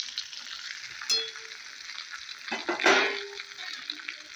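Masala-stuffed brinjals hit hot oil with a steady frying sizzle, with louder bursts of spattering as the pieces go in, close and alone with no talk.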